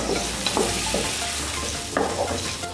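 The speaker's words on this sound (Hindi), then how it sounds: "मसाले को हम अच्छे से भून लेंगे।" Spices sizzling and frying in a pan with tomato and ginger-garlic paste for a chana mewa pulao, steady loud crackle with repeated stirring scrapes, close by and with no talking.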